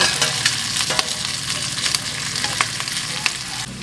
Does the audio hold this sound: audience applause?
no